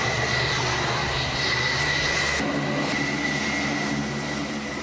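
An F-14 Tomcat jet waved off from a carrier landing roars loudly and steadily, a dense, unbroken engine rumble and whine that holds close and strong throughout with no voices.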